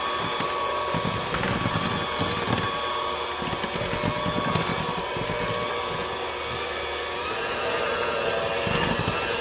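Electric stand mixer churning chocolate chip cookie dough at raised speed, a loud, continuous whirring motor with a gritty, scraping texture that holds steady throughout.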